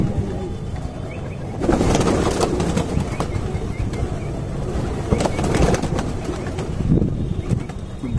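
Pigeons coo and flutter close by, soft throaty calls and brief wing flaps over a low murmur of background noise.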